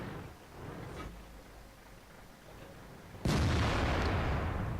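Artillery fire in the tank game World of Tanks: one heavy, sudden boom erupts after a quieter stretch of faint battlefield rumble and then rings out loudly.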